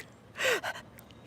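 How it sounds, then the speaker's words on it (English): A single sharp gasping breath, short and close, with a brief second exhale trailing after it. "I'm talking with heavy breathing."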